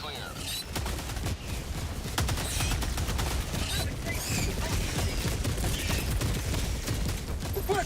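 Orbital barrage strikes in Helldivers 2 pound in a dense, continuous roll of explosions and gunfire-like blasts lasting several seconds, loud and layered with a few sharp cracks.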